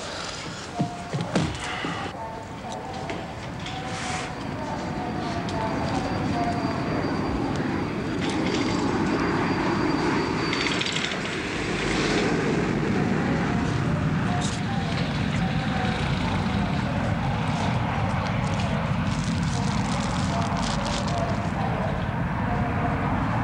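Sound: aircraft arriving, Flight 642 from Luton

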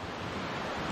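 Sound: flowing water near Thandiani waterfall

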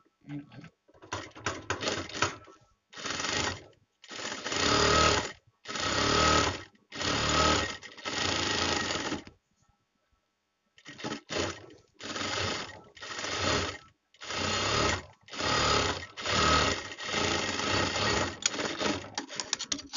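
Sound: sewing machine top-stitching blouse fabric

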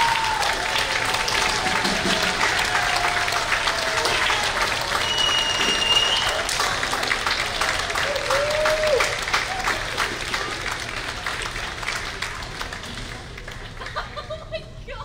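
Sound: audience applause for the school symphonic band

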